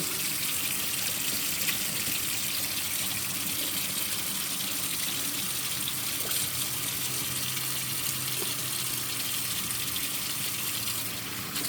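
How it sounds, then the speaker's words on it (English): A steady, loud rush of tap water runs continuously while a Shapton Professional sharpening stone is rinsed under the faucet, with faint handling noises and no speech. "Go rinse the stone off a little bit."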